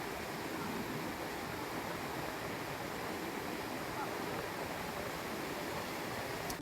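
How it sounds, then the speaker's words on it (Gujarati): Rainwater pours like a waterfall into a stone quarry in Chotila and Thangadh talukas of Surendranagar district, making a continuous, even rushing roar heard faintly from a distance. "ચોટીલા અને થાન તાલુકામાં ખાણમાં ધોધની જેમ વહ્યા પાણી"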